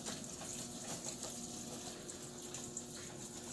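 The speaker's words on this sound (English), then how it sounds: "It's doing the final rinse, and it's actually filling the tub back up." Whirlpool Cabrio top-load washer filling its tub with water for the final rinse, a faint, steady hiss and rush of incoming water with a low pump hum, unbroken and without voices.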